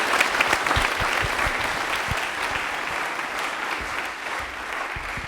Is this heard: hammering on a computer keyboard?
no